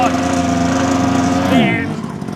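A motorcycle engine revving hard during off-road obstacle riding practice, a loud, close, steady engine drone that rises in pitch briefly before easing off, with a voice speaking over it.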